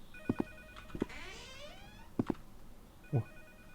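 Telephone ringing in the horror game Noise, an old-style bell ringing in short double bursts spaced about a second apart, moderately loud, with other faint tonal effects between rings and no talk.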